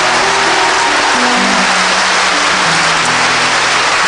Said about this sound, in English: somebody clap your hands to Jesus